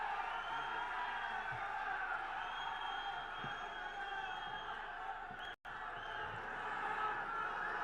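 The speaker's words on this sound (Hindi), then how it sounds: "मैं चाहूंगी तालियों की जोरदार गड़गड़ाहट के साथ में मुख्यमंत्री जी का स्वागत करें" Large crowd applauding and cheering at a Rajasthan Congress political rally to welcome the chief minister, a steady, dense roar of clapping and whoops sustained throughout, with a brief dropout midway.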